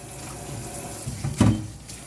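Hot water runs from a kitchen tap during handwashing, a steady close faucet stream with a brief louder splash midway, no voices.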